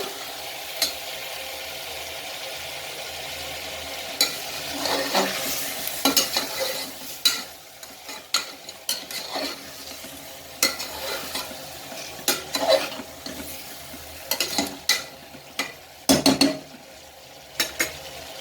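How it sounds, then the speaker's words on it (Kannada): Vegetables for veg pulao stir-fried in a pan, already salted, with a steady sizzle and repeated scraping and clinking of a spatula against the pot, loud and close, with no talking. "ಒಂದು 2 ರಿಂದ 3 ನಿಮಿಷ ನೀವು ಇದೇ ಥರ ಫ್ರೈ ಮಾಡಿಕೊಂಡ್ರೆ ಸಾಕು"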